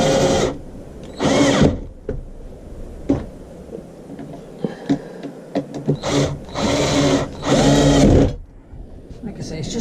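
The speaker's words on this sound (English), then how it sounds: "we'll get these screws in" A power drill drives normal wood screws into a resin casting mould in several whirring bursts of one to two seconds each, separated by pauses with small knocks and handling sounds.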